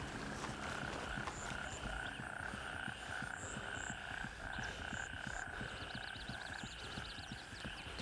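Frogs croak steadily through a humid jungle by a river in the shooter game Gray Zone Warfare, a dense ambient chorus of repeated croaks and chirps with faint clicks beneath, continuous and moderately distant, no talking.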